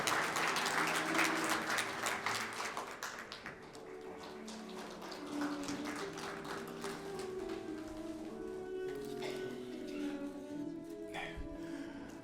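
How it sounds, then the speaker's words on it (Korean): Congratulatory applause at a commemorative ceremony for an independence war battle anniversary after a plaque presentation, loud at first, then easing into a steady, moderate clapping with faint music underneath. "축하의 박수 부탁드리겠습니다."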